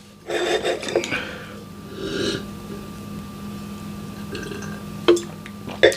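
Desert Wind 2018 estate-grown Cabernet Sauvignon poured into a wine glass, a soft liquid trickle with a few small clinks of bottle against glass, close and fairly quiet.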